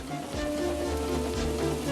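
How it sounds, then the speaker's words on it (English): Steady rain hisses against surfaces while a low wind rumbles underneath, constant and fairly close. "Wind and rain buffeted Edward."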